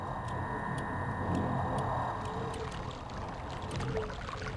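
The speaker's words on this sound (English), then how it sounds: "No, that's the clock." Faint, steady ticking of a clock in a Myst puzzle room, regular clicks over a low ambient hum, alone and quiet.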